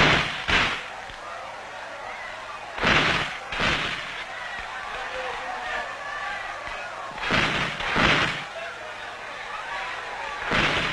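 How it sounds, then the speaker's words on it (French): A volley of old flintlock guns fires in salute during a Moro Naba enthronement ceremony, with several booming reports in clusters, some sounding close together, separated by quieter crowd ambience. "avec les vieux fusils à pierre des guerres d'autrefois, et leur fusillade salue chaque jour le départ de leur chef"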